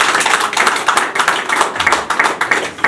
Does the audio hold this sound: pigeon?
no